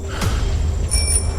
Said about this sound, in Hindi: तभी राजू को पीछे साइकिल की घंटी